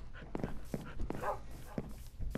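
A dog in a survival video game barks in several sharp, close bursts mixed with whimpers, spaced irregularly across a couple of seconds.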